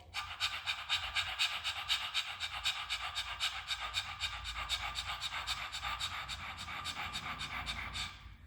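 A person pants rapidly and rhythmically, imitating a dog's quick breathy huffs, close and steady for several seconds before stopping.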